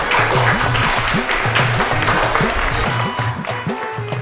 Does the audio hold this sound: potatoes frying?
no